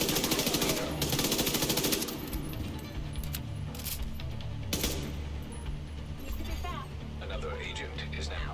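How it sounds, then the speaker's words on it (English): Rapid automatic bursts from an MP5 submachine gun in the video game The Division 2, a dense volley at the start followed by scattered shorter shots and sharp cracks, with game voices and speech mixed underneath. "There's barely any recoil on the MP5."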